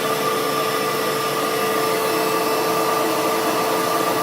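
A suction tool draws fluid out of a Camaro ZL1, producing a continuous loud, steady hiss and whine with no pauses. The sound is close and constant throughout.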